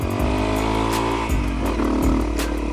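Dual-sport dirt bike ridden off-road, engine revving up and easing off in repeated surges with shifting pitch, loud and close throughout.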